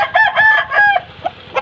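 An Aseel rooster crows once, loud and close, with a long drawn-out call, then gives a couple of short clucks.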